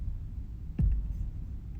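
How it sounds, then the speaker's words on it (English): A single deep boom impact effect for a drum and bass track hits once near the middle, a sharp low thud with a short rumbling tail sitting over a quiet low drone. "I like to use some kind of like a FX, like a boom or a impact"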